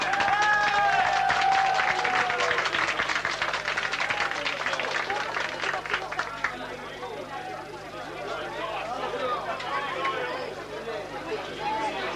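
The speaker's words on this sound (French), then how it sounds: "Dans vos applaudissements quand même." Crowd applauding at the inauguration of the Serge Lancelot stadium in Montaigu-en-Combraille, France, clapping strongest at first and thinning into murmuring chatter and background voices, with a whistle-like tone early on.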